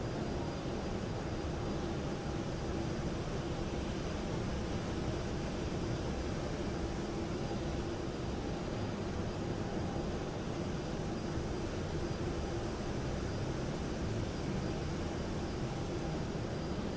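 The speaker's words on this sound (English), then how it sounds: "We've got our nice little WestJet 737 cruising along here." A WestJet Boeing 737 cruising in a flight simulator gives a steady, even broadband engine and airflow roar with a faint constant hum, unchanging and uninterrupted for the whole stretch.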